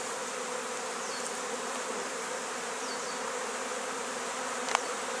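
Honeybees buzz around hive frames during a hive inspection, a steady close drone that continues throughout, with a brief sharp tap near the end.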